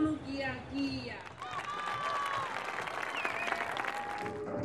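An audience at the Tapati festival on Easter Island applauds a dancer's performance. Dense, rolling clapping fills the scene, and voices and crowd noise mix in.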